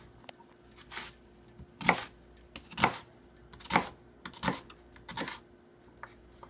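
Knife chopping vegetables on a cutting board while making chimichangas, heard as about seven distinct, evenly spaced chops at close range with faint background noise.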